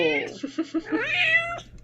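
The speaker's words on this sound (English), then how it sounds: "my cat is literally right here, all alarmed because of that meow" A domestic cat gives one short, close meow that breaks into a few quick chirps before ending in a drawn-out rising cry.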